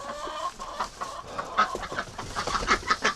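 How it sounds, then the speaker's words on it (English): Chickens cluck and murmur near an egg incubator in a brooding area, a steady, busy stream of short clucks with a few louder calls toward the end, no talking. "Yes, chickens, I know."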